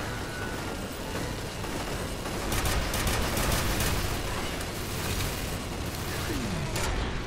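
Automated turret gunfire in the shooter game F.E.A.R. Extraction Point, a dense, steady rattle of shots running throughout with mechanical clatter, loudest in the middle and holding near and constant to the end.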